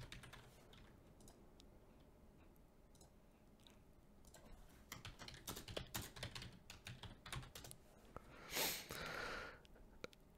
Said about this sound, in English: Let's type advanced in here.